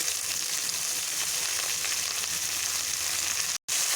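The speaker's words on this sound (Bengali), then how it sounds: "এবার আমি ধুয়ে রাখা গাজরগুলোকে এখন তেলটা গরম হয়ে গেছে ছাড়ব।" Carrots with salt and turmeric fry in hot oil, giving a steady, close, broadband sizzle that holds evenly for about three and a half seconds before a brief dropout near the end.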